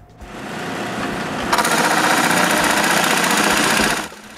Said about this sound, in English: So I drill a 1 3/4 inch hole.